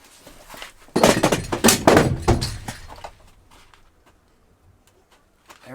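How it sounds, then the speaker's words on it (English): A fire extinguisher topples over inside a school bus under conversion, a loud cluster of clanging thuds and knocks lasting about two seconds before it goes quiet. "There went the fire extinguisher."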